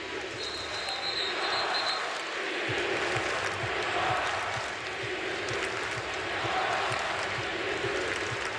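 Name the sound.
basketball arena crowd at Florida vs Gonzaga game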